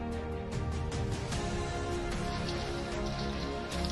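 Steady rain falling at a bridge construction site, a dense continuous hiss and patter of drops on surfaces, loud and unbroken throughout with no voices.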